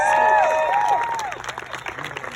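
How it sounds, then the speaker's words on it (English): An audience applauds and cheers after a speech at an outdoor political gathering, a broad wash of clapping with whistles and shouts that fades somewhat toward the end. "Give him another round of applause"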